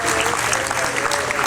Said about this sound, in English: Big round of applause for all the volunteers who helped put on the Lyons Fiddle Festival.